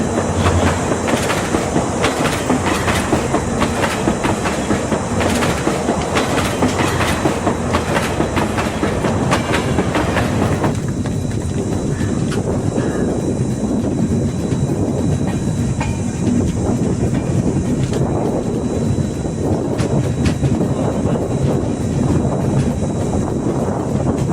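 The Konkan Kanya Express rumbles steadily along the tracks, loud and close, with rhythmic clickety-clack of wheels over rail joints and wind rushing past.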